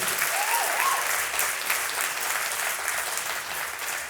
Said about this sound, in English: Yeah, round of applause, why not?